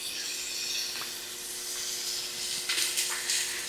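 Chopped onion sautéing with browning sausage in a pan gives a continuous soft hiss, with a few brief sharper crackles near the end and no talking.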